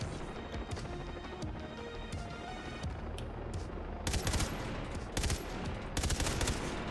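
A heavy gun fires repeatedly in the video game Blood Dragon, with steady battle noise throughout, then three loud sharp bursts near the end.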